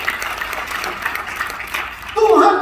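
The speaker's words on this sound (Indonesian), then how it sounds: "Kasih tepuk tangan buat Tuhan kita." Congregation applauding during a church sermon, a broad wash of clapping hands building steadily, with a voice rising over it near the end.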